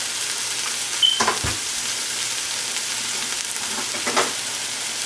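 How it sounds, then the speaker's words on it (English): Chopped leeks sautéing in oil: a steady, close sizzle and hiss throughout, with a couple of brief stirring scrapes and clatters. "I'm going to first saute this part for 3 to 5 minutes."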